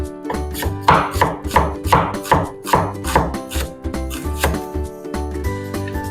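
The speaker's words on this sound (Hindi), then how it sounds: "ये जनाब मैं प्याज इसके काट रही हूँ" Knife chopping onions very thinly on a board, a steady run of close, crisp cuts repeating in quick rhythm with soft thuds, with no talk.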